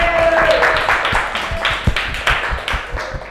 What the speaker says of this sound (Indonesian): tepuk tangan untuk Nabil